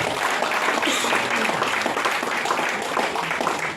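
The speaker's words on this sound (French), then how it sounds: "On va applaudir quand même pour cette qualité." Dense, steady applause from a crowd at an album launch event in Paris fills the clip, loud and continuous, with some voices mixed into the clapping.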